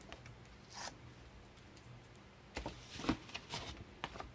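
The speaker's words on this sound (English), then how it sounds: "I'm going to take it, peel the backing off" Adhesive backing is peeled off a card craft page in short, quiet ripping strokes: one brief tear near the start, then a burst of several crackly pulls after a pause, close up in a quiet room.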